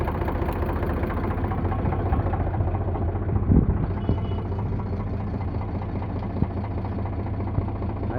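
An Eicher 368 tractor engine idles steadily nearby, a continuous low, rumbling drone with a faint rise in vibration partway through and no voices.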